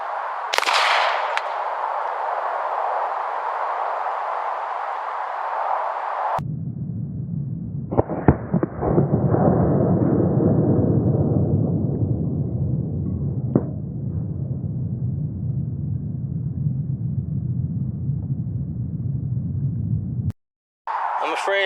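A gunshot sets off a confetti bomb exploding target downrange, giving a sharp crack followed by a burst and a long, steady rumbling noise, with a few clanks after the blast.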